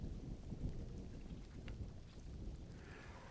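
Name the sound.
rain in the video game Mind Over Magic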